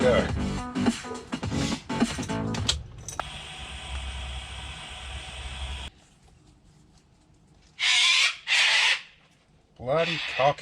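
Two loud, harsh cockatoo screeches in quick succession, following a stretch of talk and a steady mechanical hum, with more voices returning afterward.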